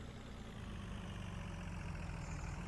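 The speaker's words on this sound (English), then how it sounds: "Engine running." A vehicle engine idles steadily after starting in Farming Simulator 19, likely the 4955; a low, continuous rumble holds constant at close range with no voices.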